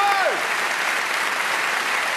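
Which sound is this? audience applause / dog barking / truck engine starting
audience applause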